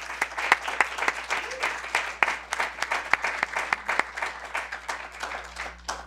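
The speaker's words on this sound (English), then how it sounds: "Let's give them a big round of applause." An audience at a gubernatorial forum hosted at Quinnipiac University breaks into sustained applause, dense overlapping claps from a moderately distant crowd continuing throughout at an even level, with no talk.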